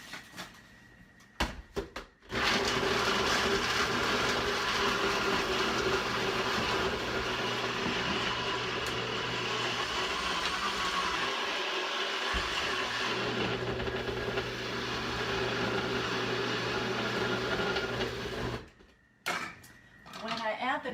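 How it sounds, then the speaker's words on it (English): A bullet blender grinds nuts for a pie filling, a loud continuous whirring buzz that starts abruptly, holds steady for about sixteen seconds and then cuts off. "You can do all of this in your blender, but I think it comes out smoother if I do it first"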